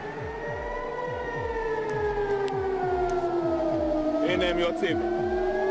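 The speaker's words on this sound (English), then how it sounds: "The air raid sirens going off" Air raid sirens wail in slow, overlapping tones that drift downward, with a steady rhythmic thumping underneath and occasional faint voices.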